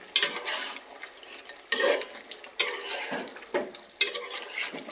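Chicken is stir-cooked in a pan with the water it has released, and a utensil scrapes and stirs in several distinct bursts about a second apart over a soft sizzle.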